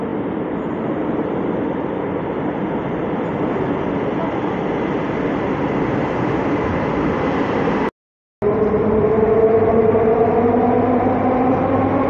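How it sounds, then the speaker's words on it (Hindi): A local train from Velachery pulls into Chepauk railway station in Chennai, a loud continuous rumble of wheels and carriages with rising whine, close by and sustained throughout. "तो ये रही लोकल भेलाचेरी की तरफ से आने वाली।"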